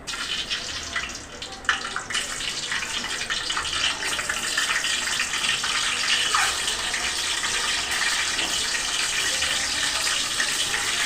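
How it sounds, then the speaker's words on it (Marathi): Eggs frying in hot oil on a gas stove for an egg fry curry give off a steady, loud, hissing sizzle that runs without a break, with a brief surge near the start. "तेल थोडं तापून देऊया आणि आपण त्याच्यामध्ये हे बघा अंडे घालणार आहेत"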